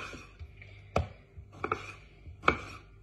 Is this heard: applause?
no